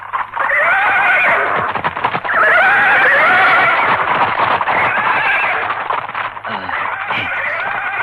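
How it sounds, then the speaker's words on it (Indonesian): Several horses neigh and whinny restlessly in a radio drama scene, with loud repeated calls close by, hoof clatter mixed in and a voice briefly heard near the end. "Kenapa kuda-kuda jadi ribut?"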